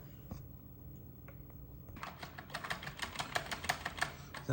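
Keys on a Commodore 64 breadbin keyboard being pressed hard and repeatedly, a quick run of close, dry clacks that grows busier and denser toward the end over a faint background hiss.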